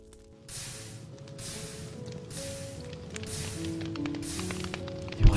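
Repeated hissing bursts of fire being put out in Minecraft, four or five broad spray-like whooshes in steady rhythm over layered game background music, ending in a louder thump.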